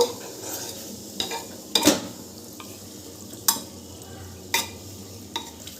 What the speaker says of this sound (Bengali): সমস্ত মাংসটাই আমি হাঁড়ির ভেতর দিয়ে দিয়েছি এবারে একটু আস্তে করে নেড়ে দেব